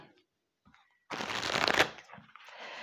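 Tarot cards shuffled in one quick, close riffling burst of about a second after a near-silent pause, followed by faint softer handling.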